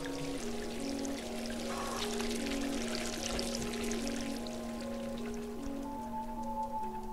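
Cat paws splash and slosh through filthy water in the video game Stray, a steady wet wash of noise running the whole time beneath sustained musical tones.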